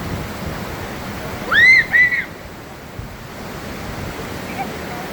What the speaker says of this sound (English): I came for the waterfall, which is behind me, as y'all can see.